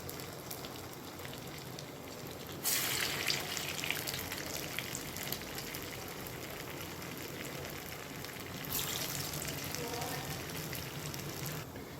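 Corn cheese balls fry in hot oil over medium heat, giving a steady, soft crackling sizzle with brief louder bursts as pieces are added.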